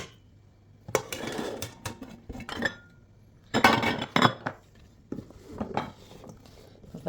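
Liver and vegetables being mixed with salt in a bowl, heard as scattered clinks and scraping knocks of a utensil against the dish in uneven bursts, with quiet gaps between them.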